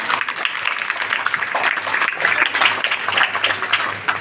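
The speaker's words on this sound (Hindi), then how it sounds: "उनका ताली से अभिनंदन करें।" At a poetry gathering at a Navodaya school in Surajpur, an audience claps to welcome a judge with dense, continuous applause that stays loud and close throughout.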